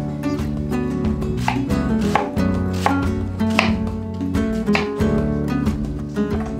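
A knife chops onion on a cutting board while Spanish tapas are prepared, a quick, even run of sharp, close chops going on throughout, with a tonal background sound underneath.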